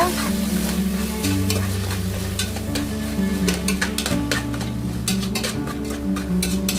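Soaked green peas with herbs are stirred in a pan for pulao, with a continuous close sizzle and repeated sharp clicks and scrapes of a spoon against the pan.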